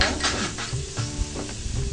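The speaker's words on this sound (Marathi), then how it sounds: "आपण आधी ह्या पडवळ्याच्या बिया टाकूया" Ridge gourd seeds go into a hot tempering with turmeric in a pan and sizzle loudly while being stirred, a steady crackling hiss with scraping strokes, close and without talk.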